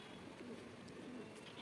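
Pigeons coo faintly on a rooftop terrace in rainy weather, a couple of low soft coos under a quiet ambient hum.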